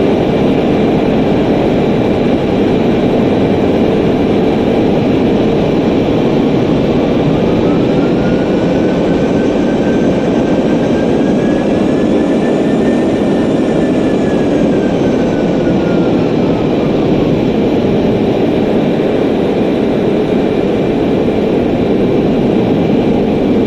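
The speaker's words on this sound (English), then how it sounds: "The throttle is increasing and decreasing engine power. Listen to its sound and watch the RPM gates." Aircraft piston engine droning loudly and steadily at close range, its pitch climbing and then falling back as the throttle raises and lowers power, with no talk.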